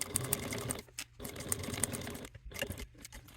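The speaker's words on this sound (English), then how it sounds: "take to your machine, and sew at a 1/8 seam allowance away from this bottom edge of your exterior top." A sewing machine runs top stitching along the edge of a fabric bi-fold wallet, whirring in three quick bursts separated by short pauses.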